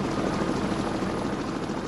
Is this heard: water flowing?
no